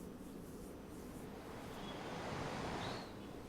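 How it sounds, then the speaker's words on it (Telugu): Heavy rain pours down in Hyderabad with gusting wind, a dense, steady roar of water that swells slightly toward the end, faint and distant-sounding, with no voices. "ప్రస్తుతం ఇంకా భారీ వర్షం కురుస్తూనే ఉంది"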